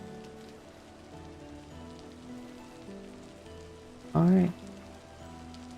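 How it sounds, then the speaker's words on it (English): Steady rain falls in Vintage Story, a continuous soft patter on surfaces beneath game music, with a person speaking briefly near the end. "Yeah, rain. We're gonna go with rain."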